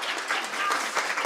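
An audience applauds steadily throughout at a panel on documenting war crimes in Ukraine, the clapping dense and even with no voices over it.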